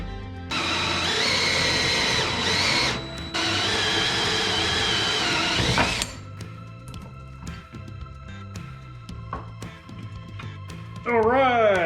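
A power drill whirs loudly for several seconds during work on a Ford Powerstroke diesel fuel system install, cutting out briefly once, then stopping, followed by scattered clanks and handling noises.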